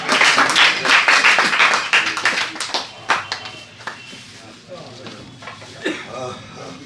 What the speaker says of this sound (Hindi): जनाब फरीद अहमद साहब, फरीद साहब के लिए ज़ोरदार तालियाँ।